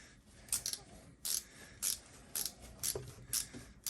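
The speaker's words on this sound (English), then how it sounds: "It's got a good ratcheting action once you lock it in." A DEWALT ratcheting T-handle hex key wrench clicking through its ratchet, short bursts of bright, rapid clicks repeating every half second or so, close up and without speech.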